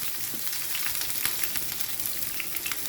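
Ginger and garlic frying in hot oil for a chickpea stir-fry crackle and sizzle continuously up close, with small irregular pops spread across the sound.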